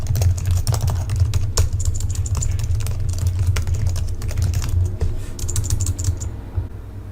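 Billing and credit card details are typed on a computer keyboard: a steady run of close key clicks over a low background hum, with no talking.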